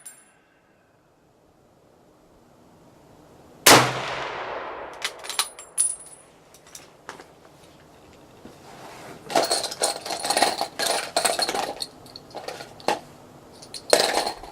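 A Springfield M1903 rifle fires at a steel target outdoors: one sharp, loud report with a decaying tail, followed by scattered metallic clinks, handling clatter and rustling, then bursts of noisy movement.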